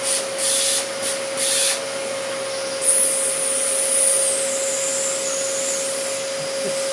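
A Dyson DC14 vacuum cleaner runs steadily close by, a constant motor whine with a strong airflow hiss that rises and shifts in pitch as the suction changes, alone with no talk.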